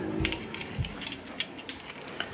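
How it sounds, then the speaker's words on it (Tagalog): A 12mm closed socket wrench working a brake caliper bolt on a Yamaha Mio Sporty scooter, giving quick close ratcheting clicks and a couple of dull knocks, with no talk. "So gagamit tayo ng 12mm na closed socket"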